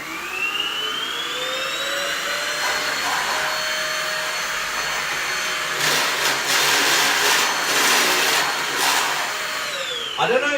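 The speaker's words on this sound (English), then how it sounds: "Never seen someone vacuum a bass." A vacuum cleaner runs steadily with a high whine while cleaning a bass guitar, its pitch shifting slightly as the nozzle moves over the instrument, with brief bursts of added suction noise near the end.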